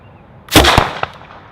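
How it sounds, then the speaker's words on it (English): A hairspray-fuelled blast set off outdoors, a sharp loud whoosh-bang with a second crack right after and a small pop trailing, then quiet. "And now we're gonna put hairspray and blow that guy up."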